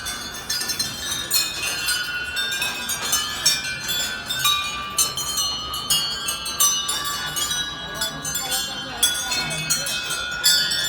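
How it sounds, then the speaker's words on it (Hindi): Many small bells hung along the approach path at Tarkeshwar Mahadev temple in Pauri Garhwal, Uttarakhand, ring and clink continuously in an irregular chorus, with someone talking over them throughout. "बहुत सारी घंटियाँ बंधी हुई हैं यहाँ, जैसे कि आपको देखने को मिल रहा होगा।"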